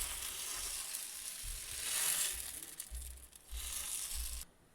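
Moong dal dosa batter sizzles on a hot pan over a low flame, a steady crackling hiss with brief scraping bursts as it is spread thin, ending abruptly.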